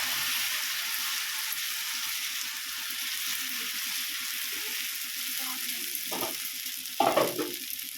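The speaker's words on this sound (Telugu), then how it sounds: "ఆయిల్ పోసేసి మనం దోశ వేసేసుకుందాము" Rice flour dosa fries in oil on a hot clay pan, giving a constant close sizzle throughout, with a couple of brief louder splashes near the end.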